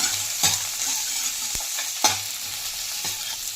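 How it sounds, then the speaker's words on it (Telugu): Tomato, capsicum and green chilies frying on high flame for egg manchurian, a soft continuous sizzle with a few sharp spatula knocks and scrapes against the pan. "టొమాటో, అలాగే కట్ చేసి పెట్టుకున్న క్యాప్సికమ్, పచ్చిమిర్చి, ఇవన్నీ హై ఫ్లేమ్ మీద వేయించుకోవాలండి ఒక 2 మినిట్స్."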